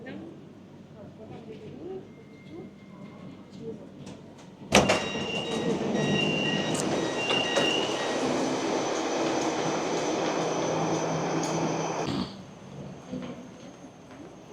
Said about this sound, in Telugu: ఇక్కడ ట్రైన్ అయితే వచ్చేస్తుంది ఆన్ టైం అనమాట